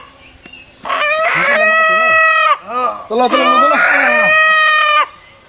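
A heavy native country rooster crows loudly and close, long harmonic calls with clucks between, while people talk over it.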